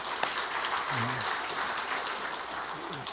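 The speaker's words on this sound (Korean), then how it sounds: "박수 한번 하겠습니다." A church congregation breaks into a steady round of applause, a dense patter of clapping that holds evenly for a few seconds with a faint voice underneath.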